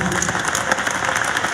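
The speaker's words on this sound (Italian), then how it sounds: "a cui va un grande applauso" Concert audience at a New Year's band concert applauding steadily, dense and fairly loud throughout without any talk.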